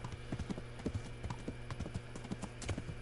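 Horse hooves clip-clop steadily in the medieval role-playing game Kingdom Come: Deliverance, an even trotting rhythm of close, crisp hoof strikes over a low continuous background hum.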